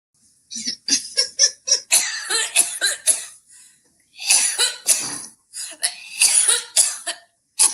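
A burst of harsh, raspy coughing, several loud coughs in quick irregular succession with short pauses between them, close to the listener.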